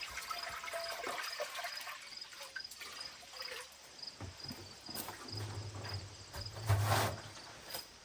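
About three or four cups of water being poured into a cooking pot to start a homegrown tomato big noodle soup, a steady close trickling wash that runs throughout with faint low hums near the end.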